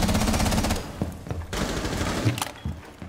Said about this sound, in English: he's shooting back